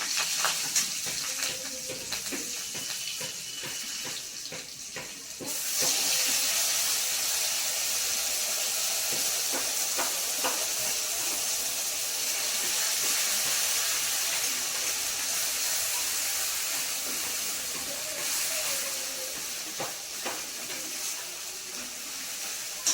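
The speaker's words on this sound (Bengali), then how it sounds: "এবার কালো জিরে আর কাঁচা লঙ্কা চিরা ফোড়নে দিয়ে দেব এরপর পেস্ট করে রাখা মশলাটা ওর মধ্যে দিয়ে দেবো" Black cumin, slit green chillies and then a spice paste hit hot oil, a sudden loud steady sizzle that hisses on for many seconds, heard close with no talk.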